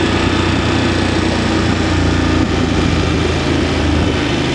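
VOGE 900 motorcycle engine running while riding after a software update, a loud, steady, close engine drone with dense rumble and constant wind buffeting throughout.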